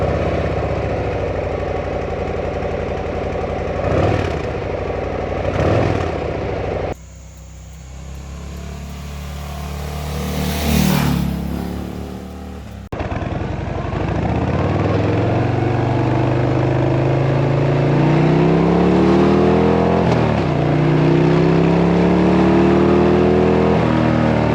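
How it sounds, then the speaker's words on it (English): Stock exhaust of a 2024 Harley-Davidson Low Rider ST idling and revving, a loud, close, deep V-twin rumble with a brief drop in level partway through, then the engine swelling again. "The exhaust system is tuned to give you that deep, throaty Harley sound that riders love."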